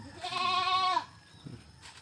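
A goat bleats once, loud and close, a drawn-out strained cry during a breech birth, followed by quiet rustling and a faint second sound near the end.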